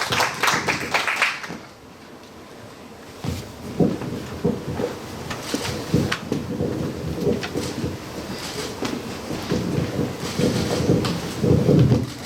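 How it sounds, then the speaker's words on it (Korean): Audience clapping at a presentation event for a local small business support program, a dense burst of applause that dips briefly then swells again and carries on steadily, with a rustling crowd filling the room. "큰 박수 부탁드리겠습니다."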